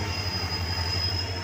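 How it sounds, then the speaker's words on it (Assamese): A train locomotive rumbles steadily at Dibrugarh railway junction, a close, continuous low engine drone with a faint high whine above it, heard alone without voices. "ৰেলৰ মাথা জইন কৰিব ওলাইছে।"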